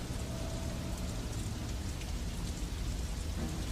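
Steady rain in a radio drama, a dense even patter of drops on a surface, continuous and fairly close, with no voices.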